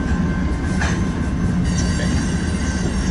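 A BNSF freight train rolls past heading south, a loud, continuous rumble of railcars with faint wheel squeal and rhythmic clatter, close to the track.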